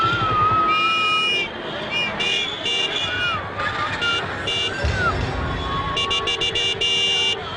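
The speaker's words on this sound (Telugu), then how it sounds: "ట్రాఫిక్ జామ్ అయింది కదా" Car horns honk again and again in a traffic jam, short tooting blasts layered over a steady jumble of traffic noise, with voices in the background.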